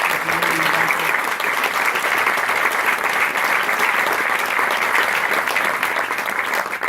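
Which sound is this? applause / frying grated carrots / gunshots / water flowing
applause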